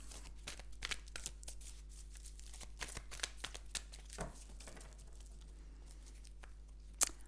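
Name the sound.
cutting a deck of cards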